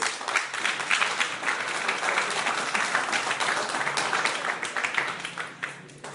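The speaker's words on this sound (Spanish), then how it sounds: "Denle un aplauso al Rey entonces." Sustained applause from a church congregation during a Spanish-language sermon, dense continuous clapping filling the room at steady loudness for the whole stretch, with no voice over it.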